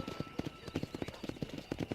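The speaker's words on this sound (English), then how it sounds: "Control that horse, will you?" Horse hooves clip-clop at a steady trot in a Red Dead Redemption Western game, a quick, fairly quiet rhythm of hoof falls with faint voices underneath.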